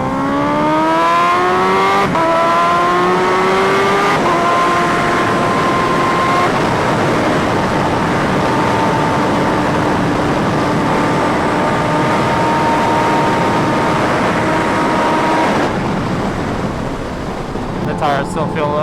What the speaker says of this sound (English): Do a little baby pull.